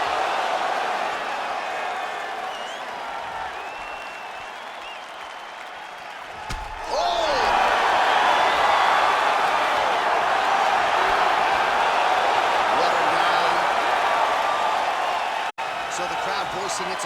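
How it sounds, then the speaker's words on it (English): A UFC crowd cheers after a round, a broad sustained roar that jumps noticeably louder partway through and stays loud to the end. "the crowd voicing its appreciation after that round"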